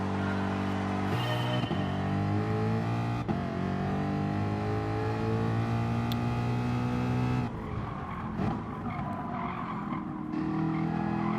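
Race cars in the GT Sport video game roar off the start line, their engines loud and continuous, revving and shifting pitch together before easing back slightly near the end.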